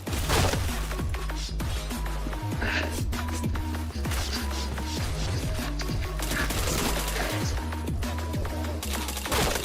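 Rapid video-game gunfire with chained headshots, dense bursts of automatic shots and impacts playing continuously and loudly under a steady rhythmic game soundtrack.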